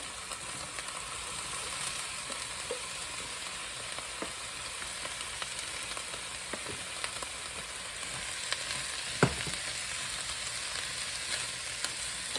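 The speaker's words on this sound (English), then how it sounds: "And then I'm going to go ahead and put the jalapenos in." Jalapeños frying in a pan for hot sauce, an even, fairly quiet sizzle running throughout with a few faint clicks and one brief tap.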